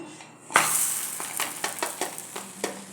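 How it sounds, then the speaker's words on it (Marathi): A rice bhakri flatbread is flipped on a hot pan: a sharp clatter as it turns, then a light sizzle with a series of soft pressing taps as it roasts. The sound is close and quiet, with no talking. "ही भाकरी आता परतून घेऊया"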